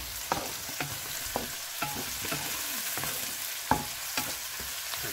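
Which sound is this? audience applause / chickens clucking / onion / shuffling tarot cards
onion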